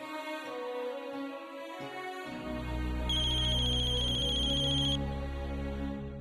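A phone rings with a repeating electronic ringtone melody, loud and close; a brighter high tone sounds briefly in the middle and music plays softly beneath.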